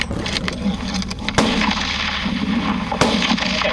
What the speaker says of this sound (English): the shots start going off